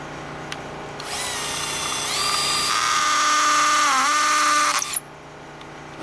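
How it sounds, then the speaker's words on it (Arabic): An electric drill boring into wood while making a wooden bokken sword whines up to speed, holds a steady high-pitched buzz for several seconds, dips slightly under load, then cuts off abruptly. "حناخذ دريل ونبدا"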